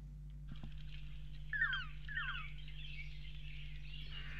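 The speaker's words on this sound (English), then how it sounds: "These birds are lance-tailed manakins." Lance-tailed manakins give short, sharp whistled calls in a few quick bursts, faint against a steady low hum and soft background hiss.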